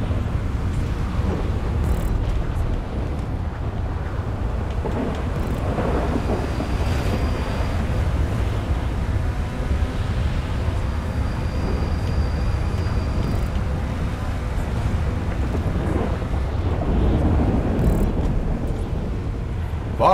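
Stormy weather in a racing video game, a steady loud roar of wind and rushing noise that keeps going without pause, with no voices.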